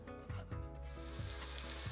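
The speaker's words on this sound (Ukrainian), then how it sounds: "Ріжемо одну цибулину та перекладаємо її для смаження в ту ж пательню, де смажили куряче м'ясо." A chopped onion fries in a pan that was just used for chicken meat, giving a soft, steady sizzle close by, with faint clinks underneath.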